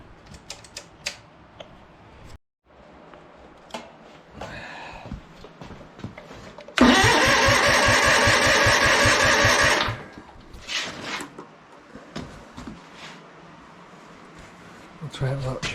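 A small boat engine is cranked without choke, sharp mechanical clatter in bursts followed by a loud, rapid rattling run of about three seconds, with people talking around it.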